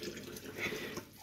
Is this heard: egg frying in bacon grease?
no